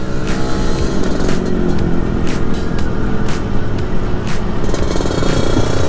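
A 1991 Yamaha RXZ two-stroke motorcycle engine runs loudly and steadily up close, a raspy, rattling drone with periodic sharp blips of throttle.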